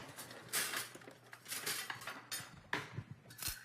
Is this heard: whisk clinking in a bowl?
yes